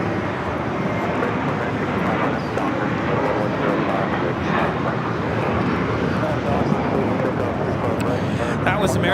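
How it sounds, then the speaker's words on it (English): American Airlines Airbus A321 taking off from LAX, a steady broad engine roar with a voice talking faintly over it. "That was American Airlines Flight 32 taking off to JFK on the A321."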